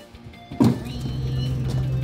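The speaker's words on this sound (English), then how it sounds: "first let's drive the dump truck" A toy-sized dump truck at a children's museum starts up with a thunk and a whirring motor that settles into a steady low hum, close by.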